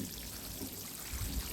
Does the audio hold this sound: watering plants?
yes